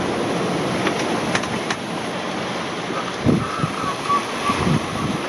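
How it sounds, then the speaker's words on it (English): Wind roaring across the deck of a sailing yacht at sea with around 20 knots over the deck, a steady loud broadband rush with gusty swells and faint creaks, no speech. "The wind comes and goes, plus 20 over the deck."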